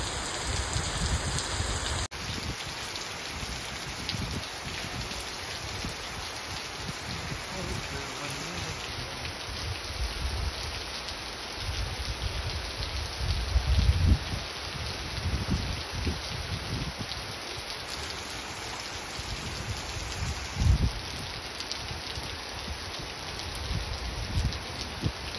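Heavy monsoon rain pours steadily over open water near the shore where fishing boats go out, a dense continuous hiss with a few louder gusts and no voices.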